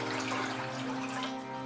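Water pours steadily into a pot for cooking rice, a continuous close splashing gush lasting the whole moment, with no voices.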